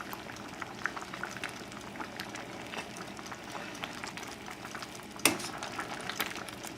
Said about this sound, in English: I'm going to mash this.